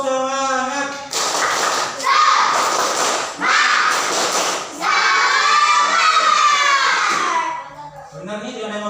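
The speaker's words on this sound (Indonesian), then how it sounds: "Coba tepuk semangat." An elementary school class claps the rhythmic tepuk semangat spirit clap in a few loud group bursts, mixed with children shouting together, after a teacher's voice.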